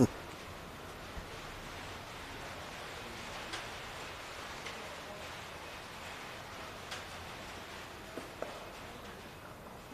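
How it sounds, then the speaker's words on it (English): A grandstand at a cricket ground expands in the sun, making a soft continuous rain-like patter with occasional faint ticks at a steady moderate level. No one talks. "As the sun comes out, you can hear that expansion in the stand above us. It sounds just like rain."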